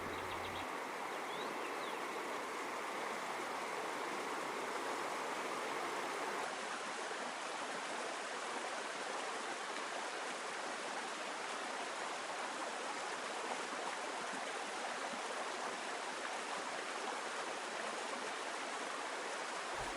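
A river running beside a roadside camping spot in Kyrgyzstan, a steady broadband rush of flowing water that continues unchanged throughout, fairly soft and with no voices.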